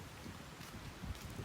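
Rain falls on a pilgrim's walk along the Camino Francés between Nájera and Grañón, near a church: a soft, steady patter, faint and distant, with no voices.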